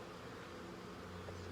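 Bees buzzing outdoors in hot weather, a faint, steady droning hum with a low tonal note swelling near the end, no talking.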